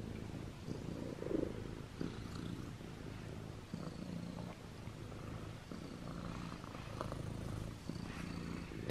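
A kitten purrs close and soft in a continuous low rumbling rhythm that carries steadily throughout, with faint handling noises over it.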